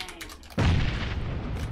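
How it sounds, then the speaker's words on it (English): A flashbang grenade detonates in PUBG with a sudden loud blast, followed by a sustained, noisy wash of sound that fills the rest of the clip. "I have a flashbang, though."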